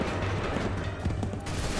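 Musket volley in Assassin's Creed 3, a short dense burst of crackling shots that holds steady for under two seconds, close and loud, with a brief dip before resuming.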